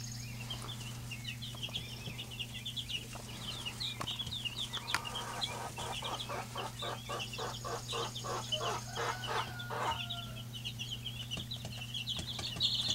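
Black Dorking chicks in a brooder box, a dense flurry of faint high peeps and chirps, with a short run of quick rhythmic cheeps in the middle, over a steady low electrical hum.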